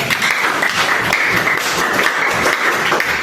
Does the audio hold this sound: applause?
yes